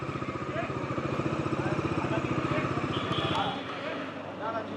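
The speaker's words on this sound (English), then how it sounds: "just taking my bike out." A TVS Raider 125 motorcycle engine running, a steady close throbbing pulse that holds for most of the stretch, then eases toward the end, with someone talking over it.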